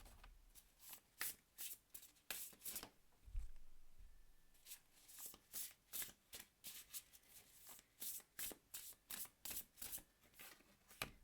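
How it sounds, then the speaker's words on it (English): Oracle cards being shuffled by hand in a long run of crisp, rapid riffling bursts, close and fairly loud, with a brief pause near the start and no talking. "let's pull you an oracle card."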